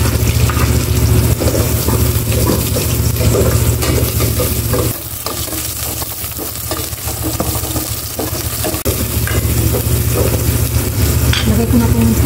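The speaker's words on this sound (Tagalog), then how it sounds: "Igisa ko na itong bawang." Garlic and onion sautéing in a hot pan, a loud constant sizzle with stirring scrapes and a brief dip partway through, no talking.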